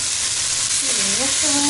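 Courgette, pepper and tomato sizzle steadily in hot oil in a frying pan, a loud continuous hiss, while a voice speaks briefly over it.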